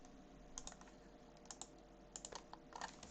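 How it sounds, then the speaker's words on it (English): Code being typed on a computer keyboard, with soft, irregular clusters of key clicks over a quiet room hiss and no talking. "let me just type this in"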